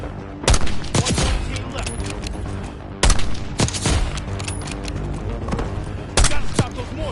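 Call of Duty Black Ops 6 campaign battle with mortar fire and gunfire: loud, dense crackling fusillades punctuated by heavy booming impacts every few seconds, with a voice calling out over the din.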